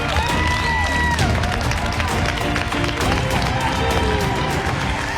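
Former MasterChef US contestants cheer and applaud in a steady, dense crowd roar with clapping throughout, while a presenter's voice and music-like tones run over it.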